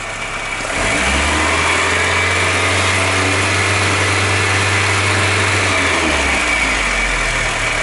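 A VW Golf Mk2 1.8 with a Pierburg carburettor rises from a low tickover to a steady, loud fast idle that holds for several seconds, then drops back down, recorded close with no talk.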